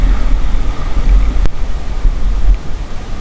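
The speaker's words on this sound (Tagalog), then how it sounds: "Ang laki ng alon" Big ocean waves at sea at night during spear fishing, a continuous rough wash of surf and water with wind buffeting the microphone, close and loud, with no talking.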